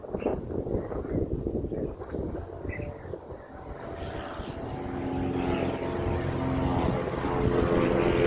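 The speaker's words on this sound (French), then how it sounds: "c'est un point de passage des petits avions ici" A very old small propeller airplane passes overhead at a crossing point for light aircraft, its droning engine swelling steadily louder and closer amid wind buffeting the microphone.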